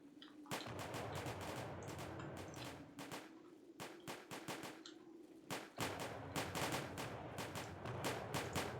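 Musket volleys crack out again and again in Combat Directive: Napoleonic Wars, dense rapid reports overlapping in ragged bursts, loud and continuous, with no talk.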